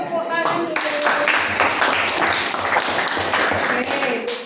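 Students in a vocational high school classroom clap together after a group's science project presentation, a steady patter of many hands over several seconds with voices chattering underneath.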